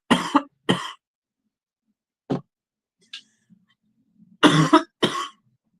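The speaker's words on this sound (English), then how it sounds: "I've got a bad cough." A person with a bad cough coughs in a few sharp bursts, a pair at the start and another pair near the end, with a faint throat noise between, close and otherwise quiet.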